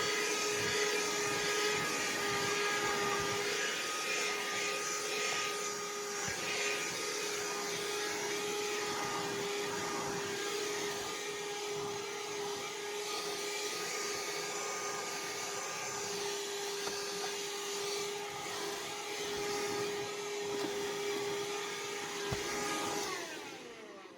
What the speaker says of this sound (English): Y'all could just hear my vacuum.